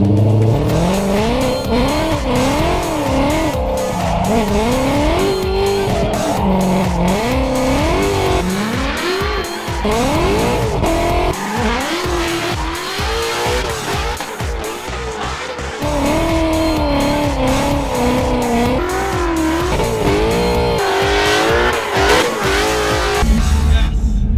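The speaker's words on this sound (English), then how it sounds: "that five liter with the, the supercharger on it is ear piercing" A supercharged five-liter Ford Mustang drifts at close range, its engine wailing up and down in pitch through repeated revs while tires squeal and skid loudly and continuously.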